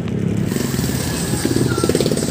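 A Honda Click 125 version 3 scooter is being parked, its small engine running close with a pulsing, rattly chug and light clatter.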